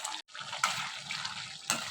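Tamarind pulihora sauce boils in a pan, giving a steady close gurgle of thick bubbling with a few sharper pops, continuous and moderately loud, with no voices.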